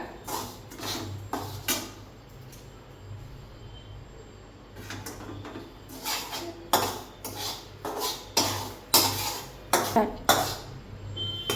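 Roasted semolina for sheera is scraped out of a metal pan onto a plate, giving a run of clinking, scraping spoon strokes that grow louder and more frequent toward the end.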